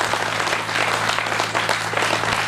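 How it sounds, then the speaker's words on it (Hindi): Audience applause at a Hindi kavi sammelan poetry gathering, honoring a poet: a dense, steady burst of many hands clapping at close range, sustained evenly throughout with a faint low hum underneath. "एक बार मुकेश के सम्मान में आपकी तालियों के गड़गड़ाहट"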